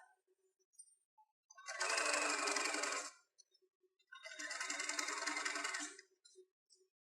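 A sewing machine stitching slowly around a cloth N95 mask cover, two steady whirring runs of about one and a half seconds each, separated by a pause with small clicks and handling sounds.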